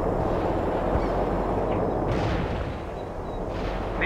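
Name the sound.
artillery fire in the video game World in Conflict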